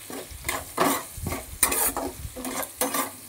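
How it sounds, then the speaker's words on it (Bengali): Chopped onion fries in a pan with a loud, close sizzle, broken by repeated scraping strokes of a spoon stirring the pieces in a quick, uneven rhythm. "দেখো, একটু ভেজে নিতে হবে পেঁয়াজ কুচিটাকে।"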